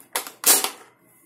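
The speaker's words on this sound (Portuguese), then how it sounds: "Aqui você faz o engatilhamento." Two sharp mechanical clacks ring out as a spring-powered M303 airsoft pistol with a lever cocking system is cocked, the second click louder and followed by a short rattling decay, close and alone.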